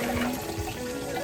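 Water being stirred by hand in a hydroponic garden tank reservoir, a continuous close swishing and sloshing with no voices.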